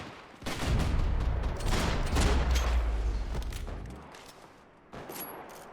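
Sustained machine gun fire in the shooter game Max Payne 3: loud, dense rapid bursts run for several seconds, break off briefly, then a shorter burst resumes.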